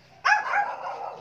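A single sharp dog bark erupts close by and trails off into a brief ringing tail, loud against near silence.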